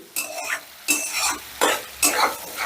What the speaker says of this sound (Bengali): নাড়াচাড়া করে নেব কারণ মশলাটা তো অলরেডি ভাজা আছে এই জন্য এটাকে বেশি ভাজার প্রয়োজন নেই জাস্ট একটু মিশিয়ে নেব